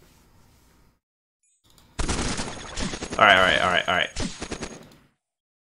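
Gunfire bursts from the robot game Cogmind, a dense cluster of rapid electronic shots lasting about three seconds with loud, layered impacts, while a person speaks briefly over it.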